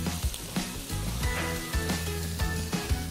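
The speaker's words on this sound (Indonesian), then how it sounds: "Kita akan tumis sampai terkaramelisasi, bawang bombaynya juga agak sedikit lunak ya." Garlic and half an onion sautéing in melted butter in a pan, a steady close sizzle with soft crackles and a few spatula scrapes, continuous with no talking.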